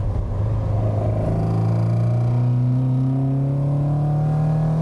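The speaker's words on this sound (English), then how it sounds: "it's got loads of burbling exhaust noise at low revs too" The exhaust of a Rocketeer MX-5 restomod burbles at low revs, a deep close rumble whose pitch climbs steadily as the engine gently accelerates, with no speech over it.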